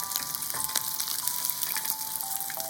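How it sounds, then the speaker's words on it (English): Kakiage, a Japanese mixed-vegetable fritter, frying in hot oil for a home-cooked meal. A steady, dense sizzle and crackle fills the whole stretch with no speech, and a faint high tone runs through it. "Put the ingredient in the oil and fry it."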